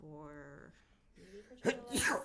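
After a stretch of talking, a short, sharp sneeze bursts out close to the microphone.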